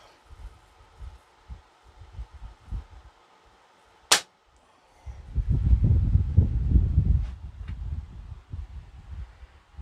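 A Crosman 1322 air pistol fires a single Red Fire pellet, one sharp, loud crack standing alone, followed by a stretch of low rumbling handling noise.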